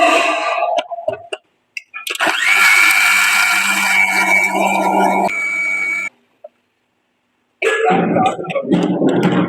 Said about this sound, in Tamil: இதை வந்து பாத்தீங்கன்னா நம்ம மிக்சில வந்து அரைச்சி எடுக்க போறோம்.